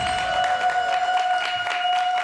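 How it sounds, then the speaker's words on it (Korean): Studio audience applause welcoming a guest onto a Korean television talk show, a steady, loud wash of clapping that fills the whole short moment. "큰 박수로 맞이해주세요."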